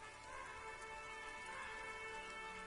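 Rain falls steadily over a city in Disco Elysium, a soft, even hiss of drops on rooftops and streets, faint and unbroken with no voices.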